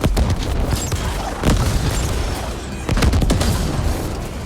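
Weapon fire in the video game Ascent: dense, continuous bursts of shots and booms at a steady loud level across the clip, with heavier surges around the middle and late sections.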